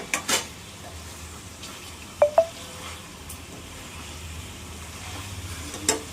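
Chicken curry sizzling in a pan as a spoon stirs it, a low continuous fry with a couple of sharp metallic clinks near the middle and a scrape at the end.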